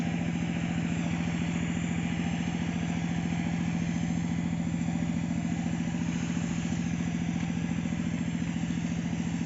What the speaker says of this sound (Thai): รถไถนาอยู่นู่นเลยนะครับ